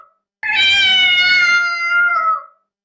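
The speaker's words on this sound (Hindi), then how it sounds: "सही जवाब, बिल्ली।" A single drawn-out cat meow, loud and close, rising briefly and then trailing off over about two seconds, heard alone against silence.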